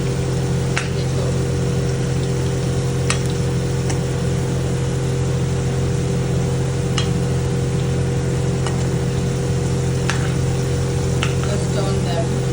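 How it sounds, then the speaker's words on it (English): Potatoes fry in a pan for mutton pulao, a steady, continuous sizzle with faint clicks of stirring over a constant low hum, close by. "Just turn them so they fry everywhere."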